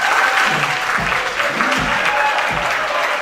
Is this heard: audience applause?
yes